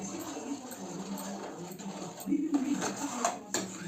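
Milk powder mixture being stirred in a pan over high flame to thicken into mawa, soft scraping and clinks of a spoon against metal under a voice talking.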